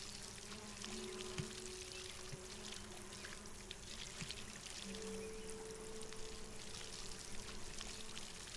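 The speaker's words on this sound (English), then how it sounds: "let's refill our watering can on the way." Water pouring into a watering can being refilled in the video game Solarpunk, a steady close stream of trickling and splashing with faint game tones underneath.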